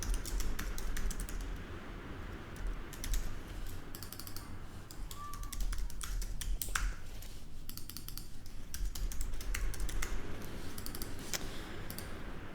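Steady typing on a computer keyboard while entering text in Figma, with rapid, close keystroke clicks in continuous bursts and brief pauses between them, over a faint room hum and with no talking.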